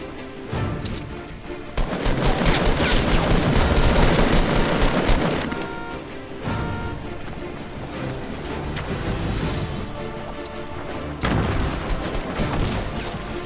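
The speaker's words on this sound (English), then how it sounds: "the guy got hit three times with a shotgun" Gunfire in the Fortnite video game, dense bursts of loud shots that swell and fade over several seconds, with no talking.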